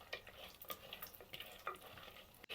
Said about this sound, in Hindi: अब मैं बरी को डाल देती हूँ और इसे थोड़ी देर भून करके निकाल लूँगी।